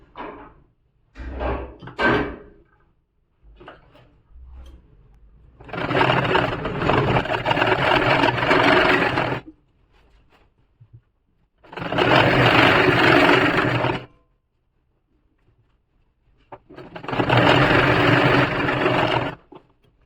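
Sewing machine stitching piping onto a kurti, running in three sustained loud bursts of several seconds each, with brief handling clatter and pauses between the runs.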